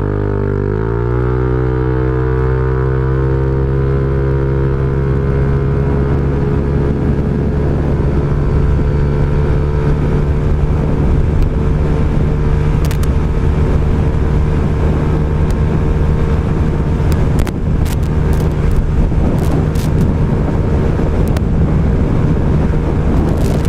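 A Honda Click 160 scooter fitted with a racing pulley upgrade accelerates hard in a 0-100 run, its engine drone rising in pitch early and then holding a loud, steady whine with wind rush throughout.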